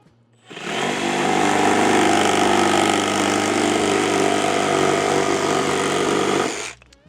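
A Makita brushless jigsaw runs steadily for about six seconds, cutting through a thin piece of material roughly 5.5 inches across. The motor whine is loud and close, with no talk over it.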